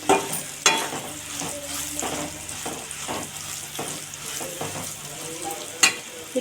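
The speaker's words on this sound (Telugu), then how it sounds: "ఇప్పుడైతే ఒకసారి మంచిగా కలుపుకోవాలి." A spoon works through a watery green chilli curry mixture in a pan, making rhythmic scraping strokes over a steady sizzle, with occasional sharp metal knocks against the pan.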